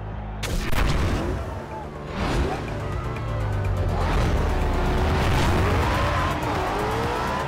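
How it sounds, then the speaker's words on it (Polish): An Audi RS5 race car in Forza Horizon 2 launches off the start line with its throttle held at about 6000 rpm, a loud, steady engine roar with rising gear whine and sharp bangs near the start, continuous throughout. "Jaki start ma to Audi."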